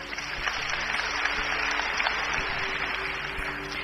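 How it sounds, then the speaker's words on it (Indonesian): A church congregation claps at a sermon's prompt: a steady, even wash of many hands clapping at moderate loudness, sustained throughout with a low hum underneath. "Tepuk tangan saudaraku."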